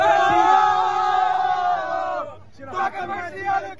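Football supporters of Comercial cheering their team, a loud sustained chant of many voices with a ringing tone that breaks off, then scattered crowd shouts and chatter.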